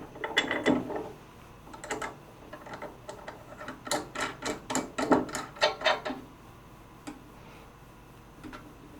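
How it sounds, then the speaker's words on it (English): A motor fastened to a mounting bracket during setup of a VEVOR ultrasonic vinyl record cleaner: close-up bursts of ratcheting, ticking clicks that cluster in quick rhythmic runs, then fade to a few sparse clicks, with no talk. "now we're going to secure the motor to the mounting bracket."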